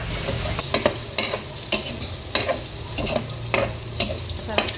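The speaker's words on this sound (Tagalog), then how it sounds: "Masarap guys pag piniprito muna yung hotdog" A hotdog fries in a pan, sizzling steadily while a utensil stirs and scrapes it. Sharp stirring clacks land about once or twice a second over the constant close sizzle.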